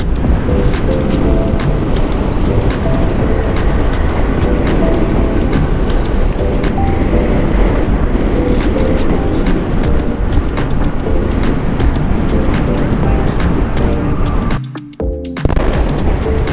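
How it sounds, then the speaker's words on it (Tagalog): Loud, gusty wind buffets and roars continuously in Ilocos, with rough rumbling bursts that drop away briefly near the end. "Normal ba talagang ganitong kalakas yung hangin dito?"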